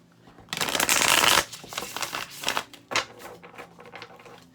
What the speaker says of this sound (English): One more shuffle, then I'm just going to start letting them fly.